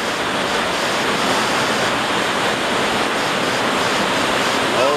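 Steady roar of a waterfall on a rugged hike in Utah, a broadband rush of falling water that holds constant and loud throughout with no voices.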